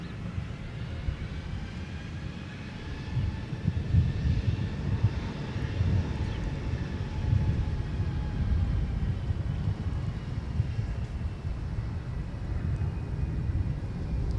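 A Spirit Airlines jet bound for Atlanta takes off from Minneapolis–St. Paul airport, its engines giving a sustained distant rumbling roar with faint whining tones that holds steady throughout, with no voices.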